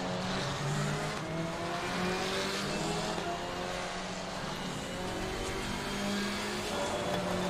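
A KTM GT4 race car laps the Hungaroring in Assetto Corsa Competizione, its engine droning loud and steady throughout, with tire noise and faint gear-shift changes along the way.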